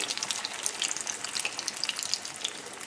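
Beaten eggs hitting a hot pan of melted butter just before it browns, giving a steady, soft, close sizzle and crackle that holds evenly the whole time, with no voices.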